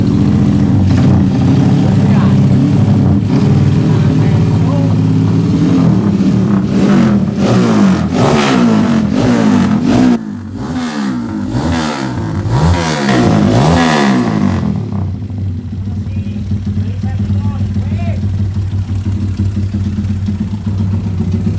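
A motorcycle engine with a Megatron carburetor being tuned, running loud and close, rising through a series of sharp revs before dropping back to a steady idle.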